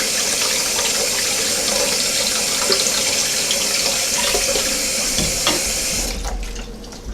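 Cold water runs steadily from a kitchen faucet to cool a freshly boiled egg, a loud, continuous splashing rush that shifts tone near the end as the flow changes.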